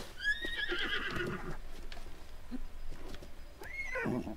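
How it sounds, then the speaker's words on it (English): Epona, the horse in The Legend of Zelda: Breath of the Wild, lets out a loud, close whinny, with another short neigh near the end over steady game background noise. "Glitchy horse."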